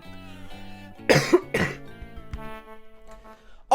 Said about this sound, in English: I've got like a cough that comes up like maybe like once every 5 minutes